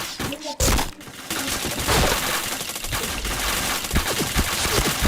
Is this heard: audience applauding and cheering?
no